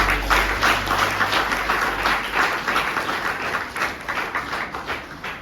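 Sustained applause from a college audience at a Teachers' Day function, honouring an NCC officer; dense, steady clapping fills the room for the whole stretch, easing off slightly toward the end.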